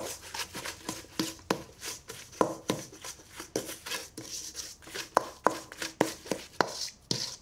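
Stollen dough being mixed by hand with flour, giving repeated close, soft slapping and squelching thumps in an uneven rhythm, with no talk.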